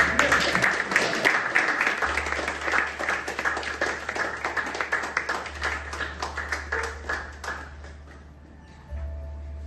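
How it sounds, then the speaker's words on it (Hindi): An audience at a short stage play applauds Sita with steady, dense clapping that holds for several seconds and then thins out and fades, with a low hum underneath. "ताली बजाइए सीता से।"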